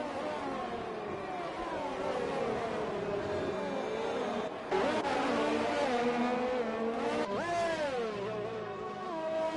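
Race cars in a racing game, one passing a McLaren, scream past with rising and falling engine whines, several cars overlapping and one sharp swell as a car sweeps by close.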